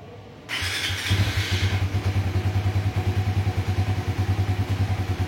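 Motorcycle engine fitted with an Aracer ECU and TCI coil driver starts up, then settles into a steady, rhythmic idle with an even low pulsing beat, close and loud, no talking.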